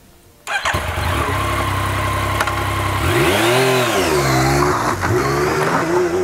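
A 2018 Yamaha MT-09 SP three-cylinder motorcycle starts after a brief starter whir, catching loudly, with a quick rising-and-falling rev, then settling into a steady, throbbing idle close by.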